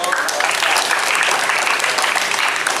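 Audience applause at an Indonesian teacher-training session, a dense, steady wash of clapping that stays loud and continuous throughout, with voices mixed into the crowd noise.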